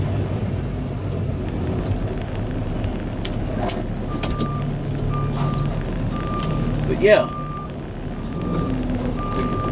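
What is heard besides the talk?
truck reversing beeps while parking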